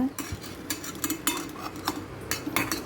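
A spoon scrapes and clinks repeatedly against a metal pan as a custard mixture is stirred briskly, with quick irregular strokes close to the microphone and no talking.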